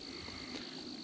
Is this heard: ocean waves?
no